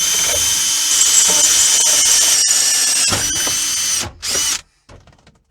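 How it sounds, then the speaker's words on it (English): Power drill boring a hole for a ground bolt during a hard-wired FM modulator install in a 2005 GMC Sierra, a steady loud whine for about four seconds, then a brief final burst before it stops. "drill a hole in here and put a nut and washer or nut and bolt on there"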